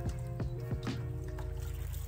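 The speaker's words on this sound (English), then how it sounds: "And now I'm just gonna water them in." Water trickles and splashes while Brussels sprout plants in garden containers are watered in, short gurgling pours close by with no talking.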